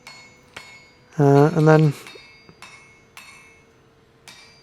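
Hammer blows on a welded wrought-iron Viking hammer face being forged, sharp metallic strikes spaced irregularly, with a brief burst of ringing, sustained metal tones partway through and a short spoken phrase.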